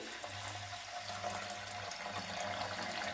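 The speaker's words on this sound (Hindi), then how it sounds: "वॉश करके अब इसमें मैं पानी डाल देती हूँ" Water runs from a tap into a bowl of washed lentils and rice, a steady hissing, splashing pour held for a few seconds, close and even, with no talking.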